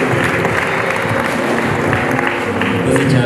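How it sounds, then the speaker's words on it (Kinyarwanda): Applause from a wedding crowd fills the space, a dense, steady clatter of many hands held at an even level throughout, with voices mixed into the roar. "Komera Imana amashyi."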